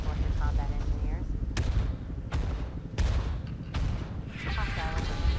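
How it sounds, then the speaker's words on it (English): Heavy artillery fire in Tom Clancy's EndWar, several sharp, loud blasts spaced about a second apart over a rumbling battlefield bed, with radio-style voices speaking in between. "Calling all artillery attack target."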